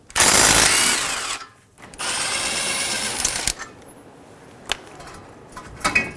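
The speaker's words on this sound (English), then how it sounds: "Using a 17mm socket, remove the 2 bolts holding on the caliper bracket." A power tool with a 17mm socket whirs loudly as it removes the caliper bracket bolts on a 2003-2008 Honda Pilot during a front CV axle replacement. Two long bursts are separated by a short pause, followed by scattered clicks and clanks.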